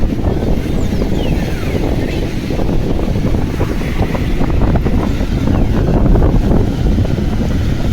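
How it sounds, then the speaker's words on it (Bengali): Strong wind roars steadily across a sea beach at Puri on a morning, a loud continuous broadband rush with surf mixed in, buffeting the microphone throughout with no pauses. "দারুণ হাওয়া চালাচ্ছে"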